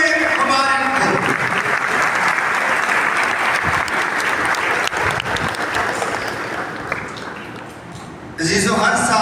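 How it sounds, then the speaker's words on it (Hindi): A church congregation gives a loud, sustained round of applause celebrating the election of a new pope, steady for most of the stretch and fading slightly before a fresh burst near the end, with voices briefly audible. "आप सबको नए बाबा आज़म का इंतखाब आप सबकी जोरदार तालियों में मुबारक हो"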